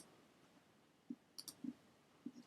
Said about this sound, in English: I'm just clicking when this dialog box pops up. I'm just clicking OK over here